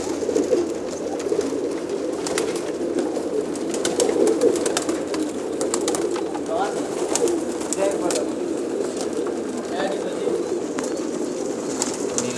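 A crowd of pigeons of many breeds, more than a thousand held in a pigeon shop, coo in a dense continuous murmur with occasional wing flaps and a few voices talking over them.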